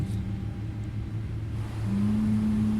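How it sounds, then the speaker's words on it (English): Boeing 777 engines running in the FlightFactor 777 V2 flight simulator give a steady low rumble, with a sustained hum that rises partway through. The sound is heard alone. "looks like we got a good start on both engines"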